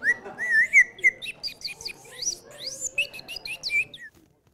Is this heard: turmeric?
no